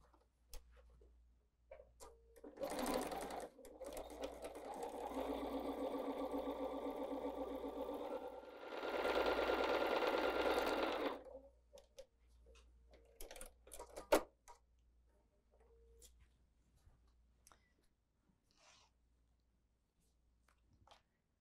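Sewing machine stitching around the outside edge of a quilted table runner, running in two bursts of fast rhythmic whirring near the start and middle, with quiet handling clicks before and after.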